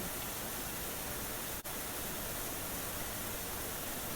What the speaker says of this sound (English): What you're hearing in the background is the waterfall from Hawaii.